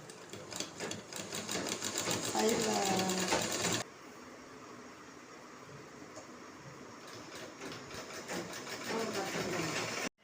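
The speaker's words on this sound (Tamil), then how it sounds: "இப்போ நான் தச்சுக்கிட்டு இருக்கேன் பாருங்க இது மாதிரி உருட்டி தச்சுக்கிறணும்" A sewing machine runs in bursts while stitching rolled tape for a pillowcase, loud and steady for about four seconds, then quieter, then picking up again near the end, with a voice talking over parts of it.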